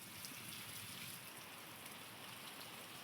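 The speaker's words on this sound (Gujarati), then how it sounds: "હજી ચાલુ જ છે વરસાદ" Faint, steady rainfall, a soft continuous hiss with no voices or other sounds.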